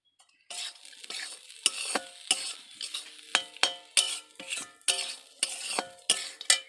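A spoon stirs garam masala powder into a frying pan while making semolina kofta, scraping in repeated sharp strokes over a steady sizzle, close and fairly loud.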